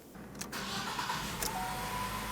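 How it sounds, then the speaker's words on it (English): A 2012-2020 Ford Focus engine starts and settles into a steady, close idle. It holds an even running hum for the whole stretch, with no voices. "let's turn on the engine at this point, let it warm up and bubble up all the excess air in the system."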